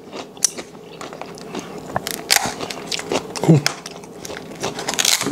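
Close, crisp bites and wet crunchy chewing of fresh cucumber, several bites spread over a few seconds, with a quiet voice murmuring in between.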